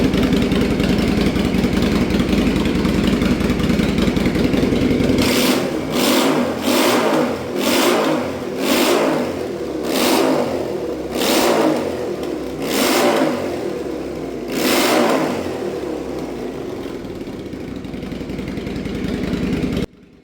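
A Yamaha XV535 Virago motorcycle, its carburettors ultrasonically cleaned and rebuilt, runs close by. After a steady engine note, about nine sharp throttle blips rise and fall in quick succession before it settles back to a smooth run.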